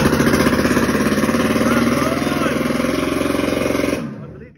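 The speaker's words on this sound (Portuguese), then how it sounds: "Vamos ver se ela vai pegar facilmente essa RD350 aqui." A Yamaha RD350 motorcycle engine runs close and loud with a steady, rhythmic pulsing idle, then cuts off abruptly near the end.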